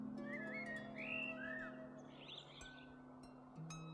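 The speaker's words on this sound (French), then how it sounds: "le chant des oiseaux" Several birds sing outdoors in spring, a mix of whistled phrases and chirps at moderate distance over a steady low hum, with no talking.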